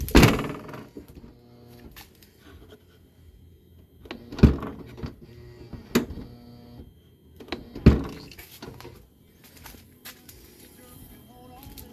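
A 2010 Dodge Grand Caravan power liftgate opening and shutting, with a motor whir and several heavy thunks and clunks spread out over a quiet background.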